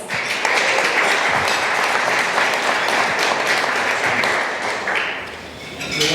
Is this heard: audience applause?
yes